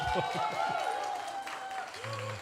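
Church congregation at a Sunday service applauding, steady moderate clapping from many hands with a voice speaking over it and tonal sounds at the end.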